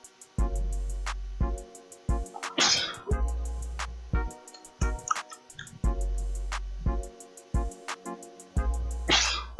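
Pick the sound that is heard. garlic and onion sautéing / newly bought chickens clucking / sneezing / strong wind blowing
sneezing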